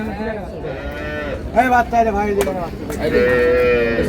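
Cattle lowing at a rural livestock market in Raniganj, Dinajpur, where improved-breed dairy cows and calves are sold; several loud, drawn-out moos follow one another closely and overlap with the noise of the market.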